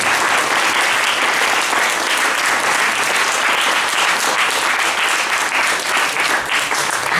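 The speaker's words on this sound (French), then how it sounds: "Je crois qu'on peut vous applaudir." An audience gives a philosopher a loud, dense round of applause, continuous close clapping from many hands holding steady throughout with no voices.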